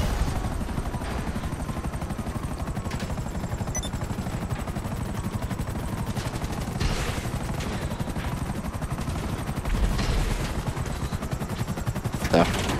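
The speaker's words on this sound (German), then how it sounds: "So, jetzt habe ich auch einen Heli." A helicopter in the video game GTA V Online gives a continuous rotor thump under dense, rapid gunfire-like crackle, steady and loud throughout, with bursts standing out near the end.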